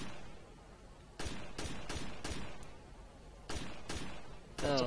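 Sniper gunfire in the video game Rainbow Six: Vegas: a series of sharp, fairly faint shots, several in quick succession, then a pause and a few more, over a low background hiss.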